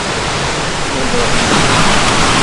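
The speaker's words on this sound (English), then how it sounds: "Water enters the first part of the farm." Water rushes steadily and loudly into the first section of a trout farm, a dense, unbroken hiss-like flow close by with no pauses.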